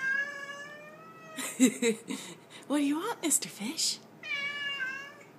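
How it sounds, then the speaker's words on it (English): A pet cat meows in a clear, drawn-out call at the start and again at the end, close to the microphone, while a person talks to it in between. "Oh, that's the cat."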